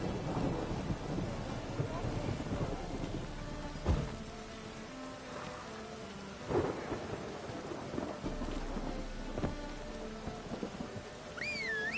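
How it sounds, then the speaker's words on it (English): Steady rain falling with low rumbles of thunder rolling in the distance, a few heavier thumps standing out, in the game The Witcher 3. "Rain again."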